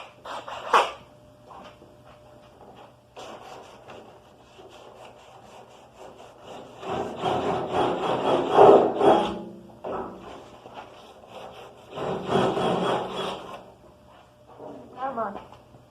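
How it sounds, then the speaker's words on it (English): Sandpaper is rubbed by hand across a tool box in scratchy bursts of varying length, fairly close but modest in level, with quiet pauses between strokes. "I'm just gonna start sanding that off"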